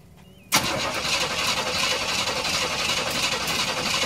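A 1976 Chevrolet Silverado K10 pickup with a Chevy 350 V8 and fresh oil and spark plugs cranks and catches suddenly about half a second in, then settles into a loud, continuous rumbling idle close by.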